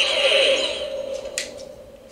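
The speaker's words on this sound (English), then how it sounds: "God, I love those shutdown sounds." A Spengler Neutrona Wand prop powers down with a steady electronic tone that fades out gradually, followed by a couple of short clicks near the end, close and fairly loud with no talking.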